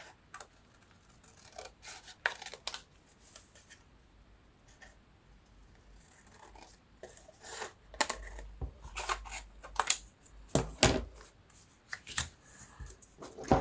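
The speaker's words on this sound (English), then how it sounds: "I'm just using my scissors." Scissors snip through 12x12 paper sheets, with scattered crisp cuts and rustling that grow busier and louder toward the end, close by and without talk.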